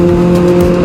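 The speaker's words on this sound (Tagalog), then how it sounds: "Dami ko nakakasalubong ngayong yung may ingay na bike, yung mga may ingay na motor." Loud, close engine roar with a steady droning pitch from noisy motorcycles on a road at New Year, one sustained burst with no talk.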